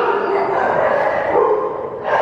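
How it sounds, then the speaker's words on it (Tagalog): Dogs barking outdoors at a farm planting site, a steady stretch of yapping and whimpering at moderate distance, mixed with background noise. "nag-ingay na naman yung mga aso"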